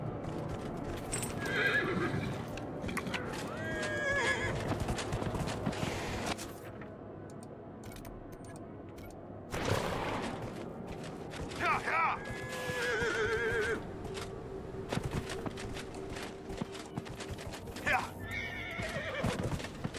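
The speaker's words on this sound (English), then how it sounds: "I'm gonna need my horse for this." Horse neighing and whinnying alongside steady clip-clop hoofbeats in Dragon Age: Inquisition, with game music and effects layered throughout, loud and continuous.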